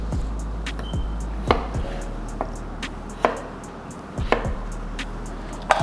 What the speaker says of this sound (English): taking our potatoes and chopping them into small 1/4-inch pieces.